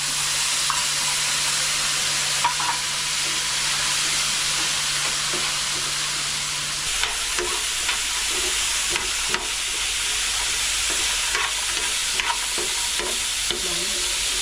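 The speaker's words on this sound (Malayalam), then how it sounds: "ഇനി നമുക്ക് പിഴിഞ്ഞു വെച്ചിരിക്കുന്ന പുളിവെള്ളവും കൂടെ ഒഴിച്ചു കൊടുക്കാം" Tamarind water poured into a hot pan while making a crispy onion vada chutney crackles and hisses in a long, steady sizzle at close range, with faint stirring scrapes and a low hum fading partway through, no speech.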